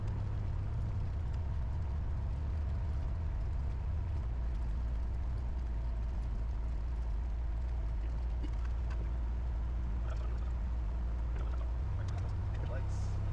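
Steady low engine drone from a Cessna 172 light aircraft taxiing at night, loud and continuous throughout, with no clear speech over it.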